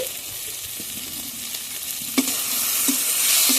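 Tomatoes sautéed with onion and garlic in a pan for a spicy Bangladeshi chicken skin and liver curry, giving a steady hiss of frying punctuated by a few sharp spatula knocks near the end.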